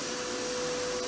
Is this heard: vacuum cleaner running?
yes